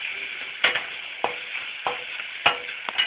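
Cooked rice stirred into a sizzling pan for amchur rice, a steady frying hiss with about five evenly spaced scraping strokes of a spoon, close and clear, no talking.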